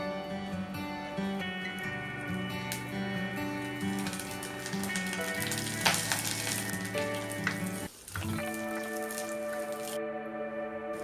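Shallots, green chilli and curry leaves frying in oil in a pan for dry fish kulambu: a steady, fairly loud sizzle with crackling spits and scraping stirs, briefly dipping quiet near the end before resuming, with no voices.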